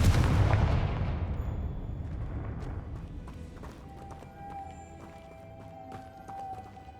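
A Confringo fire spell in the Hogwarts Legacy video game detonates in a loud, booming blast that opens the clip and decays slowly over several seconds into a fading rumble, with faint tonal game sounds afterward.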